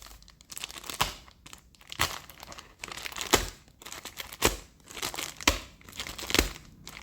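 A blade slices open a package, producing repeated crinkling, tearing bursts of plastic and cardboard at a steady rhythm, close and fairly loud.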